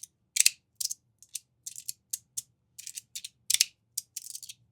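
Magnetic fidget slider with deeper textured plates clicking sharply as it slides, a string of crisp, close, irregular snaps and short bursts of clicks with brief pauses between.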